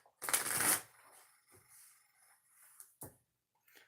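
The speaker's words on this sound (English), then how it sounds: "I'm going to shuffle the deck before we start your reading, okay?" A tarot card deck being shuffled by hand: a loud riffling burst at the start, then quieter shuffling and a sharp tap as the cards settle, with brief soft rustles after.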